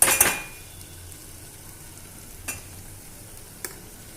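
Masala paste for a spicy chicken rassa sautés quietly in a pan, a soft low sizzle that opens with a sharp metallic clatter and has two brief utensil clinks later.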